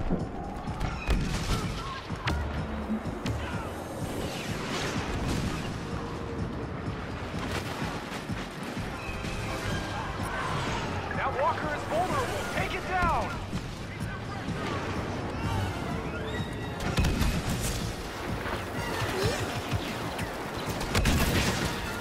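Bombers making an attack run in a Star Wars Battlefront battle: continuous explosions, blasts and heavy weapons fire roll on for over twenty seconds, dense and fairly distant, with chatter mixed in.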